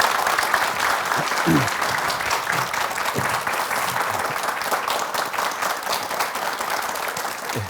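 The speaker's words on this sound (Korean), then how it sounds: "박수로 청해 듣겠습니다" A lecture hall audience applauds steadily to welcome a professor to the stage, a broad, even wash of many hands clapping at moderate loudness with no talk over it.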